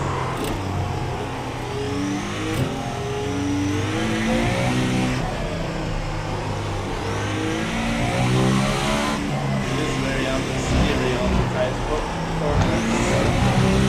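A race car engine in the iRacing simulator, a loud, steady engine note climbing and dropping through gear changes across the whole stretch with a faint hiss over it.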